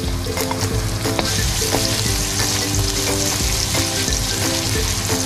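Garlic sautéing in a little oil in a pan, a loud, steady close-up sizzle with intermittent scraping and stirring clatter throughout.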